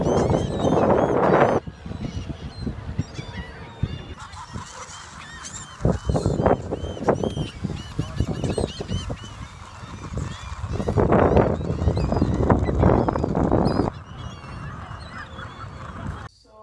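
Birds on a beach honk in loud, repeated bursts, close and clustered in several bouts with short lulls, over steady outdoor noise.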